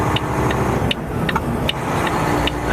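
Heavy haul truck engine droning steadily and close while the driver splits gears, a continuous loud running tone with brief clicks recurring through it and no talk.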